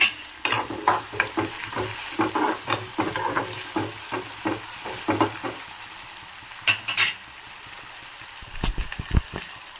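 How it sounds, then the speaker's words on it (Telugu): Dry red chillies and curry leaves fry in hot oil in a pan, giving a steady close sizzle broken by repeated scraping stirs throughout, with a few louder clatters near the end. "ఇప్పుడు ఇందులోకి 2 ఎండుమిర్చి కొంచెం కరివేపాకు వేసుకుందాము."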